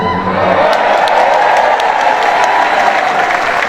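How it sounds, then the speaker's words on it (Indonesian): Audience at a Christmas celebration gathering breaking into loud sustained applause with some cheering, a full crowd clapping close and steady throughout. "Tapi sebenarnya jangan tepuk tangan."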